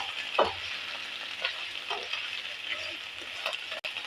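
Capsicum frying in oil, a continuous bright sizzle with a few soft stirring scrapes and one brief clatter near the end.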